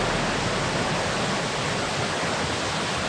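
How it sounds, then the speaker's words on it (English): Waterfall roaring as a dense, steady broadband rush, loud and close, with no pauses and no voices over it. "So I just got down to the waterfall,"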